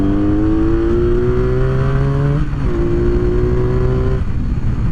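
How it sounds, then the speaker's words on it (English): A 1983 Honda Interceptor motorcycle engine pulls hard toward redline, its loud close-up tone climbing steadily, dipping briefly at a shift, then rising again. "I'll give it a little burst of acceleration again, and it pulls pretty much all the way to redline"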